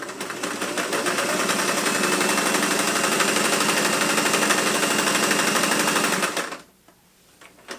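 A vintage domestic sewing machine stitches through three layers of 400 denier pack cloth, running in a loud, steady, rapid mechanical chatter for about six seconds before stopping abruptly into near quiet.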